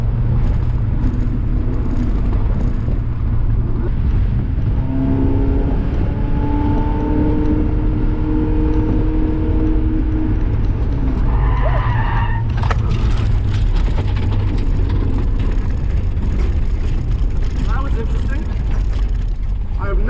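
A car laps Gingerman Raceway on a track that has just dried. A loud, close engine drones and rises through gears for most of the stretch, then the tyres give a harsh burst of noise near the end, with voices faint underneath.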